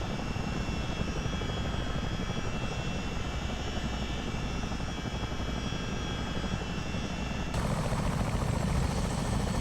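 Simulated CH-47D Chinook twin-rotor helicopter in Microsoft Flight Simulator 2024, a dense steady roar of turbine engines and thudding rotors that continues throughout and grows brighter and slightly louder near the end.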